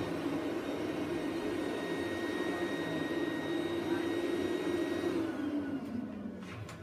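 A Rainbow vacuum cleaner runs with a steady droning whine, close and loud, its pitch dipping slightly as it winds down near the end.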